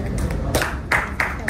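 A handful of sharp, scattered hand claps from an audience at a talk, rising in bursts over a continuous speaking voice.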